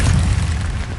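A fire spell blast in a wizard video game bursts out as a loud, dense boom with heavy low rumble, sustained at steady volume for about a second with no voices.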